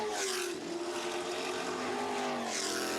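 A Formula 5000 V8 open-wheeler racing car at a Tasman Revival race meeting roars past at a distance, its engine note rising and falling as it accelerates, fairly faint and steady throughout.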